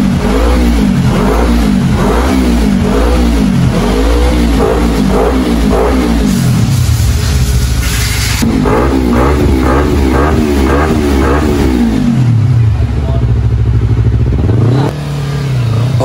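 A Yamaha R25 motorcycle fitted with an upgraded Kea aftermarket exhaust revs hard on a dyno, loud and close, with repeated rising and falling throttle sweeps, then a sustained high-rpm pull near the end.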